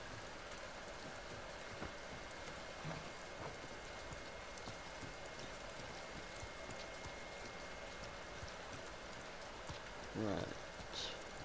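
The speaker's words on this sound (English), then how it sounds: "Oh, it's a little bit fucking rainy," Steady rain falls in the video game The Last of Us Part II, a continuous soft hiss of drops on surfaces lasting throughout, with a brief louder patter near the end.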